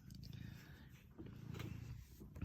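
Low rumbling purr, close and continuous, with soft breathy pulses.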